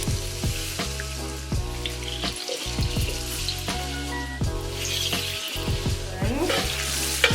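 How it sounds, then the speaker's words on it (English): Butter melts and sizzles in a hot pan for a seafood broil, a steady close crackle that keeps going alongside droning low tones and occasional clinks. "So I'm going to put the butter in here and Michaela is going to melt it."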